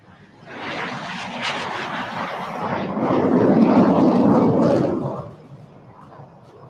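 A nine-aircraft display team takes off at the Aero India air show, its engines swelling into a broad, loud roar that peaks and then drops away, with faint crowd and announcer sounds underneath.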